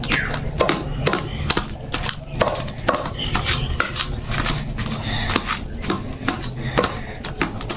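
Potatoes are mashed in a pot with rhythmic clanking and scraping of a utensil against the metal, repeated quick strikes at a steady pace, close by and with no talk.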